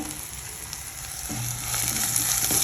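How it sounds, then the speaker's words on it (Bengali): Eggplant pieces fry in hot oil, a steady close sizzle that swells louder after a moment, with faint stirring and no voices. "বেগুন দিয়ে দিয়েছি ভাজতে"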